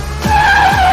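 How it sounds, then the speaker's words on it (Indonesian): A car skids loudly during a chase with government agents in an action film, its tires squealing in a sustained high whine over a rumbling engine, close and lasting about a second. "Dan terjadilah aksi kejar-kejaran antara mereka dan agen pemerintah yang lain"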